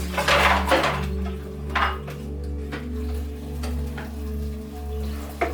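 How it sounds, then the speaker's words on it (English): Dishes, pots and cutlery clatter during washing up, with scattered close knocks and clinks over a steady low hum. "let's start with the dishes."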